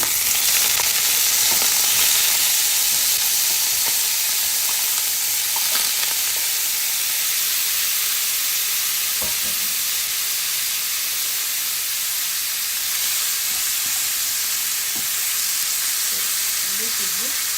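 Shrimp pan-fry for pepper shrimp in a steady, loud sizzle of hot oil. A broad hiss runs throughout, with a few clinks and stirring sounds on top.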